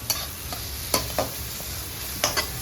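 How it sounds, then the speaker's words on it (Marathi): Two onions being sautéed in a pan for pav bhaji give a steady sizzle, broken by a handful of sharp spatula scrapes and taps at irregular intervals, close and clear with no voices. "दोन कांदे घेतले चांगला परतायचा"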